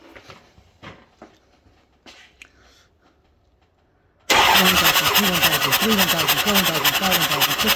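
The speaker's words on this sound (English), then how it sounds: "that one had compression. You can hear it." After a quiet stretch with light clatter, a misfiring Cummins 5.9 diesel engine abruptly starts cranking loudly during a compression test, a fast rhythmic chugging that keeps going without starting.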